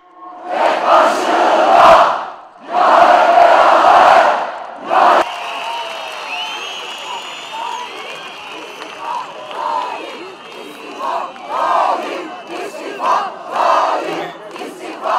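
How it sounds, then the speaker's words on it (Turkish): Huge crowd at a party rally in a city square shouts chants in loud rhythmic bursts, then breaks into a rolling roar of voices and scattered cheers. "Bir duyalım bakalım nasıl bağırıyorlar."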